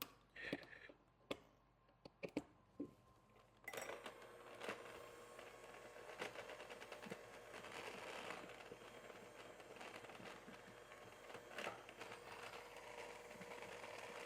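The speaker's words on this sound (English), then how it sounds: "I'm just using a handheld mixer." A handheld electric mixer whirs steadily while beating cookie batter for Italian Easter cookies, a continuous close motor drone with scraping, after a few separate knocks and clunks at the start.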